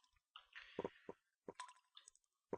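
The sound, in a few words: water droplets dripping in the video game Dawning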